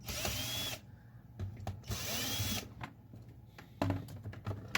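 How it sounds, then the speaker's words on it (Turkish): A cordless screwdriver fitted with salvaged laptop batteries backs screws out of a homemade upright vacuum, whining in two long bursts of about a second each, with shorter spins and clicks of handling between them. "laptop bataryaları taktığım şarjlı vidalamamla vidalarını söküyorum"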